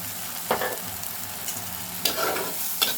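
Onions sizzling steadily in mustard oil in a pan, a close soft crackle broken by a few sharper scraping stirs of a spatula, with no voices over it.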